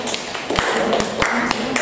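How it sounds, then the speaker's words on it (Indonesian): Students applauding the boys' group in a classroom, a sparse scattering of separate claps and taps rather than a full, dense round of applause. "Tepuk tangan untuk kelompok laki-laki."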